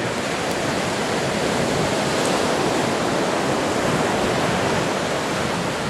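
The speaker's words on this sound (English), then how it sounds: "So when that big wave comes onto the beach, it can scoop up the sediment and transport it onto the beach" Surf on a beach with sandy cusps, a dense continuous roar of breaking waves and rushing water, loud and close, with no voices.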